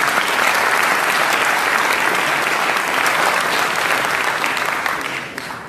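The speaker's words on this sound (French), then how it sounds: "Vous pouvez applaudir" A crowd applauds at a ceremony for selected young footballers in Réunion, a loud, continuous wall of clapping that holds steady and then eases slightly at the end.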